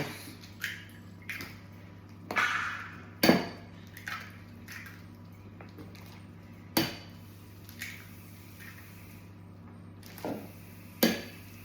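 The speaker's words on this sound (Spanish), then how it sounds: "Vamos a batir los huevos." Six eggs are beaten in a bowl with water for traditional Galician broth filloas, giving scattered wet squishing taps at an uneven pace over a low steady hum.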